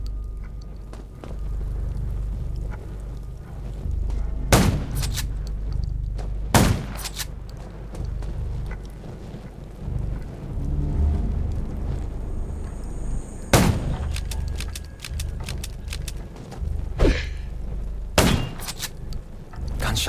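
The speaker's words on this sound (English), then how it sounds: "Gunshots will attract more." Sharp, loud gunshots in the zombie game Undawn crack out one at a time at irregular intervals, each ringing briefly over a steady low rumble of game ambience.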